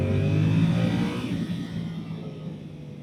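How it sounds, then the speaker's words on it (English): A Yamaha R7 motorcycle engine pulls hard under acceleration, with a loud, steady drone that holds level and then eases off slightly as the bike moves on, with no voices over it. "hear this motor working and that crank, and you give it some beans"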